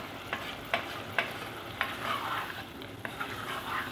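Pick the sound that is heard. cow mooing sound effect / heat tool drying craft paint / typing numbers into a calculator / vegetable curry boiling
vegetable curry boiling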